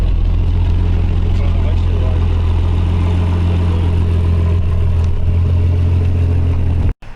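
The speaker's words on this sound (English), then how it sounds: "So just like that, we got the Supra to stay running." A Toyota Supra engine idles loudly and steadily after an idle screw adjustment, a low, even rumble with light clatter that cuts out abruptly near the end, while people talk over it.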